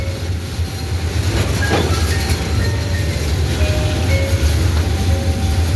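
A freight train of tank wagons rumbles steadily past at close range west of Madiun station, its heavy low roar mixed with rattling wagons, rhythmic wheel clatter and occasional thin metallic squeals.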